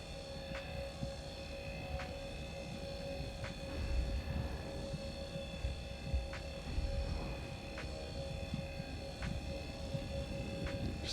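A spacecraft engine in Star Citizen hums steadily while parked on a rock, with a continuous droning whine and low rumble under rhythmic beeping pulses at regular intervals, moderately faint.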